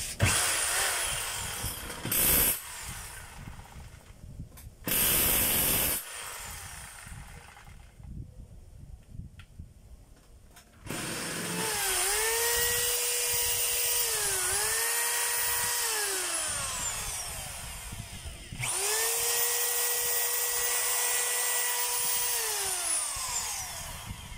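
Corded hammer drill, freshly fitted with a new switch, cord and plug, running in hammer mode in several sustained bursts with a whining motor and rattling hammer action that speeds up and slows down, close and loud, with no talking.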